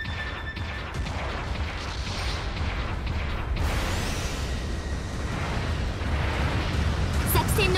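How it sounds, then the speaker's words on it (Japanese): Incoming artillery bombardment in the mecha combat game Gundam Battle Operation 2 rumbles and crashes in a continuous low barrage, with heavy impacts swelling midway and a brief synthetic voice cue early on. "砲撃が来ます。"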